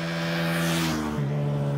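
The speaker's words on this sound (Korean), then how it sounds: "먼저 순정 이륜차의 운행 중 배기 소음을 측정합니다." Exhaust of a stock, untuned motorcycle being ridden past a sound meter, a loud steady engine drone with a slight pitch dip midway, fairly close.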